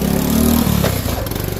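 A 1997 Honda Cub C70 motorcycle engine idling close up, a loud steady chugging putter with a slight dip and recovery partway through.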